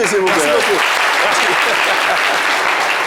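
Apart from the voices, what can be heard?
audience applause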